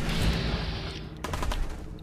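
A gun fires in Fallout 4 as a loud, rapid burst that fades into a rumble, followed by a quicker cluster of sharp cracks near the end.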